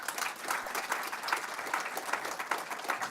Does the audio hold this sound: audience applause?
yes